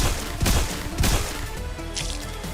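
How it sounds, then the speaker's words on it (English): Gunfire in the video game Snowbreak Containment Zone, with two heavy booming shots and a rattling burst, followed by a brief higher-pitched mechanical sound. "Gunfire continued to light up the dim room as Katia's voice sounded over our heads."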